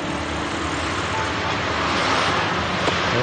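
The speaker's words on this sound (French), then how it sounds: "Il y a une voiture qui arrive." A car approaches along a road, a steady broadband rumble of traffic that swells slightly as it nears, moderately loud with no voices over it.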